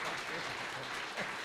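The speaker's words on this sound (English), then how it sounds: "Can we give a round of applause for Sir Martin?" Audience applause at a talk on advertising in China: a steady wash of many hands clapping, fairly faint and distant, with a voice speaking briefly over it.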